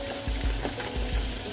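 Chilli chicken pieces fry in hot oil in a home kitchen pan, a steady close sizzle broken by a few soft thumps and scrapes as the pieces are stirred.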